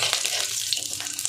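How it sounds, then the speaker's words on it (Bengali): Small mourala fish frying in a pan give a steady, close sizzle with a dense hiss that holds from start to finish, broken by a few sharper crackles and spits. "একটু লাল লাল করে মাছগুলো ভেজে নেব"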